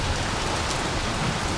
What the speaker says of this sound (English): It's hailing, pouring, lightning, thunder.